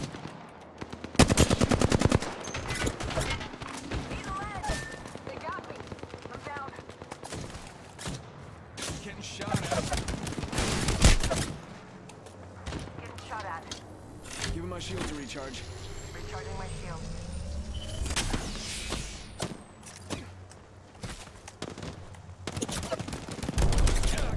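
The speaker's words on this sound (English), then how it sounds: "Target spotted. Opening fire." Bursts of automatic weapon fire in an Apex Legends match, loud rapid rattling volleys repeating throughout, with game effects and a player talking between shots.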